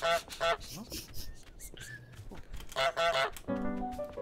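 Cartoon goose honks from Untitled Goose Game, several loud nasal blasts in short bursts with gaps between, mixed with a brief groan from a person nearby.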